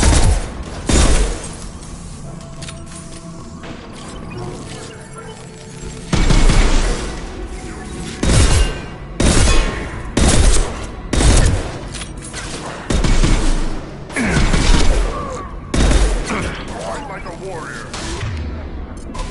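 Video game firefight: bursts of gunfire and booming shots come in clusters, loud and close, with quieter gaps between volleys and a voice speaking briefly over the combat.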